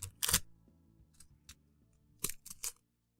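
Scissors snip during a try-out of an art kit, up close: a few sharp, crisp cuts spread unevenly across about three seconds, with small handling noises between them and no talk.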